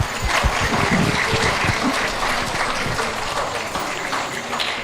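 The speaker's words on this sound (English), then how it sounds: "You guys can clap." A crowd at a high school Hmong New Year celebration claps steadily and fairly loudly throughout, a dense, even wash of applause.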